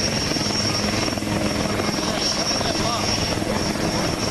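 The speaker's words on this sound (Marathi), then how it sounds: "धावपट्टीवरती धावताना हे विमान दिसतंय आणि आता काही क्षणातच ते उड्डाण करेल" Loud, steady roar of a Tejas fighter jet's engine at full power during its takeoff run at a Bengaluru air show, a continuous rushing drone with a high whine that holds throughout.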